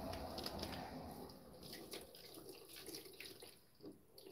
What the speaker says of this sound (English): So right now, I'm just filling the water